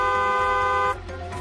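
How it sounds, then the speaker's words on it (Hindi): A steady car horn blares for about a second, then cuts off, leaving a softer tonal hum behind. "दूसरों को भी सावधान करने के लिए हॉर्न बजाएं"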